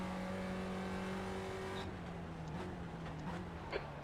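Spec Racer Ford race car engine in the iRacing sim at Sebring, droning steadily under throttle with a pitch that holds then slowly falls, a continuous near engine tone without any voices.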